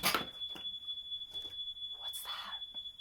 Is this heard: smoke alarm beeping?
yes